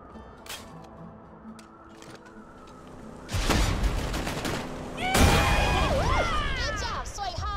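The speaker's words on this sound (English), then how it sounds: "I saw those explosions from here!" Loud explosions and bursts of gunfire in the Borderlands 2 video game erupt in two heavy blasts after a quieter stretch, with sharp pops and whining, warbling effects trailing behind.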